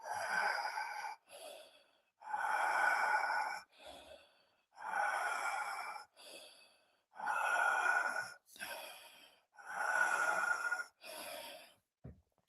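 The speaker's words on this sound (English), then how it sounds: "Keep on breathing like that" Deep rhythmic breathing into the belly and chest during an energizing breathwork session, about five long, loud breath cycles close to the microphone, each strong inhale followed by a shorter exhale, with brief pauses between.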